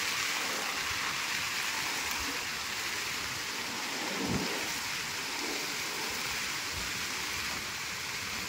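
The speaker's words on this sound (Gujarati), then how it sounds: "ધોધમાર વરસાદ, નદી નાળાઓમાં પૂરની પરિસ્થિતિ" Heavy downpour during flooding rain, a dense, steady roar of falling water with a brief low rumble of thunder partway through, fairly faint and continuous.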